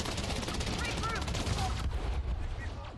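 Video game gunfire during a Genshin Impact boss fight: a dense burst of rapid shots crackling close and loud, layered with game effects and tonal chirps, tapering off near the end.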